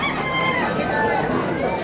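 Roosters crow among a busy crowd at a weekend pet market in Malabon, with a steady din of clucking fowl and people nearby.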